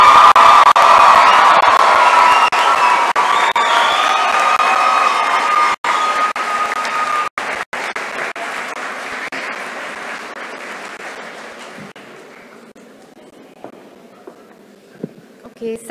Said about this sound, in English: a rousing round of applause for the graduates, class of 2017